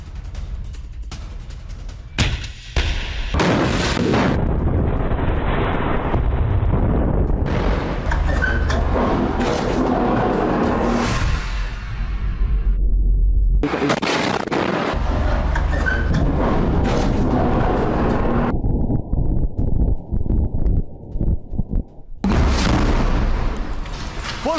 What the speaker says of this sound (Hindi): ये देखिए जरा अल कासम ब्रिगेड का आरपीजी अटैक